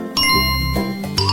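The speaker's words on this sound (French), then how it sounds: "Il reste une dernière sonnerie." A bell rings with bright, clear dings, a couple of close, ringing strikes that sustain and overlap briefly, with no talk.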